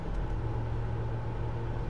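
A 1971 Mercury Marquis Brougham sedan with a 429 two-barrel V8 cruises on a main road with windows up, a steady low engine and road rumble heard from inside the cabin.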